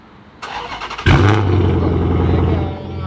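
An SRT car engine cranks and catches, roaring loudly to life after a brief click, then settling into a steady, loud idle.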